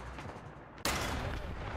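Heavy gunfire hitting a tank in War Thunder, one sudden loud blast that cuts in after a quiet rumble and then keeps on as a dense roar.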